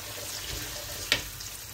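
Onions go into hot oil for biryani, giving a faint, soft sizzle in the background with one brief sharp click or clatter near the end and no talking.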